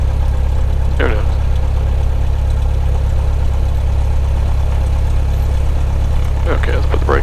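A Cessna light aircraft engine drones steadily during its pre-takeoff run-up near runway 26R at Chino Airport, a loud, even hum with brief radio voices breaking in now and then.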